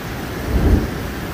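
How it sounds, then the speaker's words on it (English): A rainstorm with hail: rain hisses steadily while a short, low rumble of thunder swells and fades within about a second. "we are having a little bit of a rainstorm with a little bit of hail"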